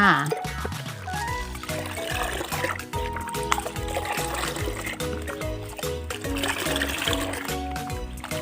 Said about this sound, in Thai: คนส่วนผสมระหว่างน้ำกับกาแฟเลยนะคะ